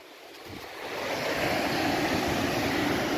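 Sea surf rolling onto a shingle ridge on a stormy coast, a steady broadband wash of breaking waves that swells louder after the first second, with wind noise on the microphone.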